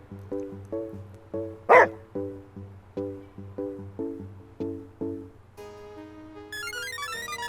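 Two dogs in the video game Murder is Game Over let out a run of about ten short, evenly spaced barks and yips, clear and alone, then a bright chiming jingle takes over at the end.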